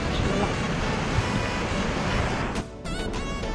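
Ocean surf at dusk along a rocky shore at Shek O, a steady close roar of breaking waves mixed with wind buffeting, briefly dipping before resuming.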